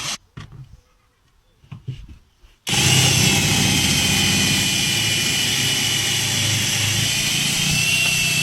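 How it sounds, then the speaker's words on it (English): A few quiet knocks, then a power drill starts abruptly and whirs loudly and steadily up close, drilling a hole in a car panel, until the end. "I'm just going to drill a hole in this panel"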